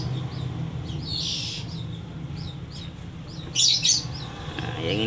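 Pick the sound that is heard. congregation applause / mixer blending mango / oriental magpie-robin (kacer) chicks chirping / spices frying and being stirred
oriental magpie-robin (kacer) chicks chirping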